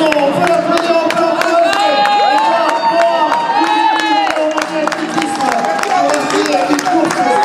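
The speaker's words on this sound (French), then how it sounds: "Garçon, on peut l'applaudir encore." Spectators at an interclub athletics meet in Evreux applaud and cheer a runner winning the 3000 metres, a steady crowd roar with scattered claps beneath an announcer talking over a loudspeaker.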